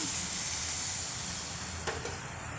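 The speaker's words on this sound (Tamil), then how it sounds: "இப்போ ஒரு டம்ளர் அளவுக்கு தண்ணி ஊற்றிடலாம்" A loud, steady hiss of a tumbler of water poured into a hot pan of broccoli and green peas for gravy, sizzling and steaming continuously before slowly easing off.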